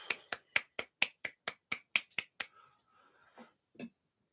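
A golf clap: about a dozen light, evenly spaced claps land close together over two and a half seconds, then fade into a murmur of speech.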